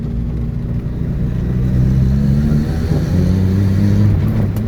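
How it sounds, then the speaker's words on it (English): A 1974 Honda Civic engine accelerates in second gear, not fully warmed up, its loud, close, low mechanical rumble building steadily with no talk over it. "It's got plenty of power, even though it's in second gear."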